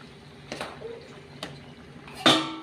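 A lid is set onto a pot of simmering green jackfruit and prawn curry over medium heat: two light clinks, then one louder, close metallic clank that rings briefly at the end, with no talking.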